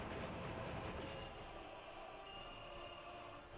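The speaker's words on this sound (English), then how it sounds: "No, it looks like we've just woken the train up." A train rolls steadily in Workers & Resources: Soviet Republic, a continuous broad rumble with faint rhythmic clatter that eases slightly in loudness partway through.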